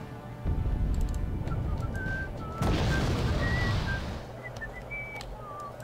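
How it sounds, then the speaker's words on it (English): Incoming shells whistle through a Wargame Red Dragon battle, thin tones gliding over a steady rumble of distant gunfire and a burst of explosions, with no talking. "What the hell's that whistling?"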